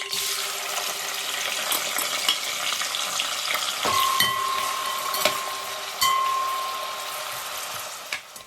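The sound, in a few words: onions frying in oil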